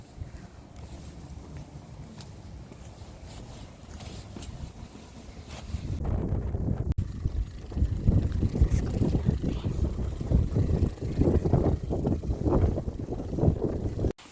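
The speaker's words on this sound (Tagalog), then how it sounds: "Hangin." Wind buffets a microphone outdoors on a snowy day while two people ride bikes, a steady low rumble that turns heavier and gustier halfway through.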